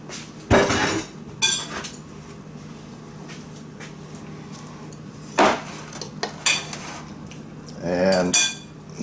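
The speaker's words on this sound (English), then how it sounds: "get the smaller cutting wheel, put that in. Spin that around like so." Metal parts clank and clink as the smaller cutting wheel is fitted into a sausage grinder and spun into place; several sharp knocks separated by quiet gaps, with a rattling scrape near the end.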